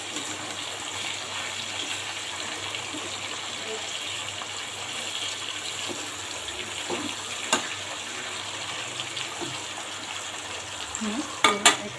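Spicy chicken frying in a pan, a constant soft sizzle with occasional crackles and spatters, plus a few sharper clicks of stirring or turning near the end.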